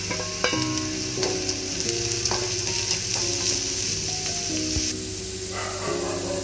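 Three carrots cut into long thin strips stir-frying in a pan for vegetable noodles, a dense continuous hiss and sizzle with repeated scraping and clanking of a spatula as they are tossed, close up and with no talk.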